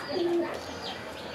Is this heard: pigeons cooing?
yes